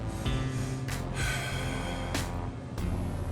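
Deep breathing during a push-up workout stretch: a few loud, close gasping inhales and exhales at a steady pace, heard alone without talk.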